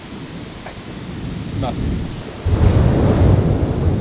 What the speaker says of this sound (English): there's a constant rumbling sound of all the thunder